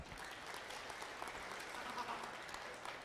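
An audience at a conference keynote in a large hall claps, a steady, fairly soft patter of many hands from across the room that holds evenly with no speech on top.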